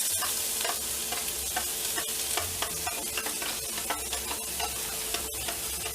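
Onions frying in smoking-hot olive oil in a cast-iron pot, a steady close sizzle broken by frequent clicks and scrapes of stirring, with no voices.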